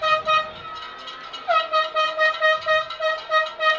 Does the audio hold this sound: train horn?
yes